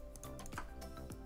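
Soft, quiet keystrokes on a computer keyboard as a folder name is typed during After Effects work, a short run of light taps close by over a low steady hum.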